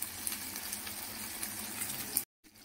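Whole garam masala spices, lightly crushed, crackle and fry in hot oil in a pan, a steady dense sizzle that runs unbroken before cutting off abruptly near the end.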